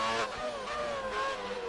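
Race car engine from the F1 2018 video game, a steady high whine with harmonics sliding slowly downward over under two seconds, loud and close with no talk.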